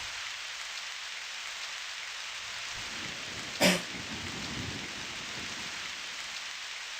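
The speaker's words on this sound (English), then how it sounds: "Ooh, rain." Steady, dense rainfall from the video game Asheron's Call, a continuous even hiss that fills the whole stretch, with one brief sharp crackle in the middle and a soft low rumble after it.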